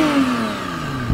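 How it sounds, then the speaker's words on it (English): A McLaren Artura's twin-turbo V6 holds a steady, loud drone with a smoothly falling pitch, then gives a brief low burst at the very end. "that's where you put in gas to feed this new twin turbo V6"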